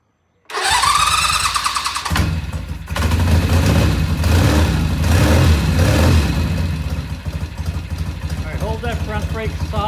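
A Norton motorcycle engine cold-starts without choke, catching after a short crank and settling into a loud, uneven, chugging idle that runs on steadily close by, with people talking over it.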